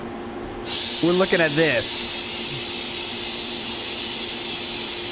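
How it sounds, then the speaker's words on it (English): Bug spray hisses from a can at a stink bug in one long, steady blast that starts after a short pause and keeps going, while someone speaks briefly over it. "the bug spray"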